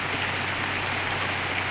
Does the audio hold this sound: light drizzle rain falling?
yes